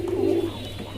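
Pigeons at a Bangladeshi pigeon market, including a pair of Afshan grizzle fancy racers, give a loud, close coo that rumbles over the first half second, then a softer steady hum of birds and room noise.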